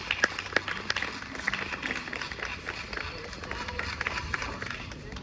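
Audience at a bard song performance applauding to welcome a performer onto the stage, with dense steady clapping from a crowd that continues throughout.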